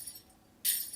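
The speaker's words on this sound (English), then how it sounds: "add a tambourine sample as well" A tambourine sample played as a sustained note in the Serum synth opens with a quiet stretch, then a bright, jingling shimmer enters sharply and rings on, fairly soft and alone.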